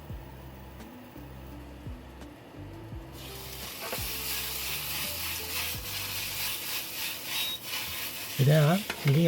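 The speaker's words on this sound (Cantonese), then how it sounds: "我哋慢慢俾心機啲，將兩面都煎到佢焦脆啦" Rice noodle rolls pan-fry until crispy: a continuous close sizzle builds and grows louder, while scraping and stirring strokes from a utensil in the pan repeat in an uneven rhythm.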